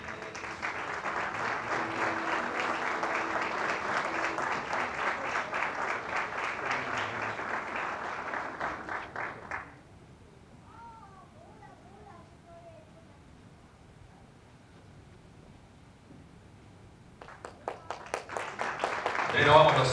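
Audience clapping at a municipal swearing-in and diploma ceremony: rhythmic, fairly loud applause for about ten seconds, then a quiet stretch with faint sounds before a speaker's voice and renewed clapping rise at the end.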